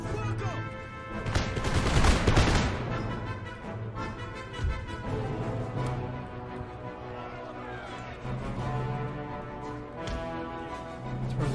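Canister shot blasts from artillery in Empire: Total War ring out amid crackling musket volleys and battle din, a loud burst early and scattered sharp shots continuing across the field with a low ambient hum.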